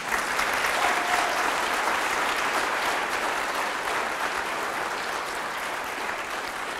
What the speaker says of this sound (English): let's have a special round of applause